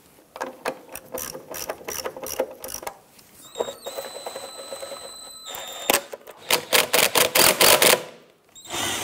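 Fuel pump bolts on a 2011-2019 Ford Explorer 3.5L are snugged down with a ratchet, producing bursts of quick clicking pawl ratcheting up close, with brief pauses and a faint mechanical whir between runs.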